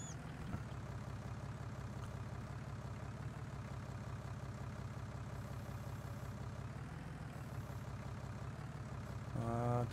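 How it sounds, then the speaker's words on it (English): Tractor engine in a farming video game, a steady low droning rumble running throughout at even loudness, with a brief rise in revs near the end. "Tractor's still moving when you lift that up."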